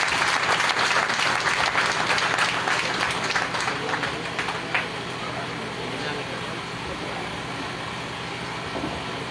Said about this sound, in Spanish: Otra vez el aplauso, por favor, para el hermano Luis Arellano.